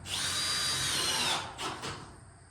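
A power drill whines steadily as a screw drives into wood, then slows and stops with a couple of short final bursts.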